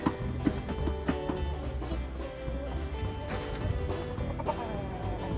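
Hens cluck and murmur close by in a busy, continuous chatter, with scattered sharper calls over a noisy outdoor background.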